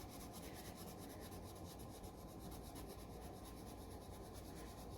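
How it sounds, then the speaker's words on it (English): A pencil shades back and forth on paper, a steady, close scratchy rubbing that runs continuously with no pauses. "So you can see my pencil moving up and down"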